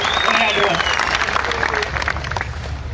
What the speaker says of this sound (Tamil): அவனுக்காக நீங்க பலத்தை கைத்தட்டல் கொடுங்க